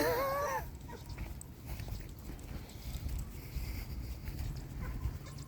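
A dog gives a short, whining bark right at the start, then only faint outdoor rustle and wind noise follow.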